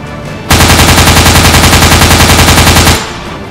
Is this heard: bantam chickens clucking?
no